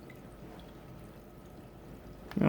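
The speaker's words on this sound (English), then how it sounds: "we are leaking a little bit of water" Water drips from a leaking homemade swamp cooler, a steady low liquid patter throughout with a louder splash or spill near the end.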